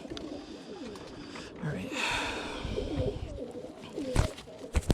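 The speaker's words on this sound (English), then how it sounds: "See, like these birds are super wild right now" Birmingham Roller pigeons coo and rustle close by during pest control work, with low burbling calls and sharp bursts of movement as someone speaks briefly.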